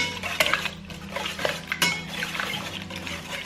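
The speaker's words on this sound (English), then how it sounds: "I'm going to mix in my ham" Diced ham being mixed into potatoes in a bowl, with repeated clinks and scrapes of a utensil against the dish and soft stirring in between, close and fairly loud.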